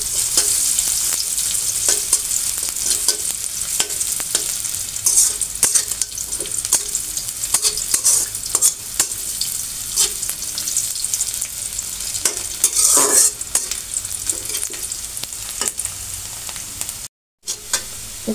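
Onions and garam masala sizzle steadily in a hot pan, a continuous loud frying hiss with occasional stirring scrapes and clinks, no talking over it.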